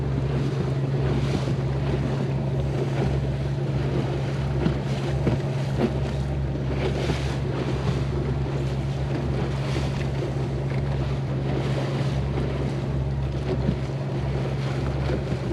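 A fishing boat's motor drones steadily as it drives across mud flats, a constant low engine rumble mixed with water wash and heavy wind buffeting the microphone.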